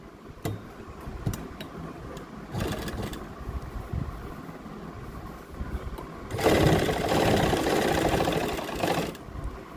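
A sewing machine stitches an invisible zip onto a kurti, running in short separate bursts and then in one longer, louder run, with faint ticking between passes.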